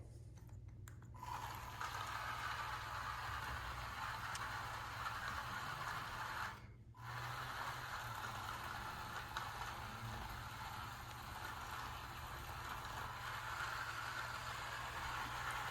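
A small Raspberry Pi Pico robot car with motor-driven wheels drives, turns and reverses, giving a steady, faint, continuous whirring hum with a low drone underneath and one brief dropout partway through.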